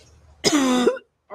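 A single close cough, harsh and throaty, from someone whose drink of iced tea went down the wrong pipe, lasting about half a second before stopping abruptly.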